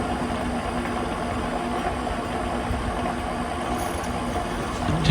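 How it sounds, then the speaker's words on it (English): Coolant pump running on an OKK vertical milling machine with a newly installed high-volume coolant system, a steady loud mechanical drone and rush that continues evenly throughout. "Test of the coolant pump and Justin's newly installed coolant system."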